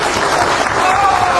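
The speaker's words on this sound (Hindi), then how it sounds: "एक बार जोरदार तालियां हमारे honourable chief minister of the Congress Himanta Biswa Sharma ji के लिए।" A dense burst of audience clapping for Chief Minister Himanta Biswa Sarma at an inauguration program in Shillong, loud and continuous throughout.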